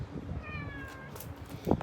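A cat gives a single short meow during a snowy New England blizzard, fairly faint and close, followed by a brief rustle.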